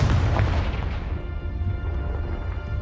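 Confringo explosion spell in a wizarding-world video game, a heavy, booming burst right at the start that rumbles low and fades into a long, dull tail over the next couple of seconds.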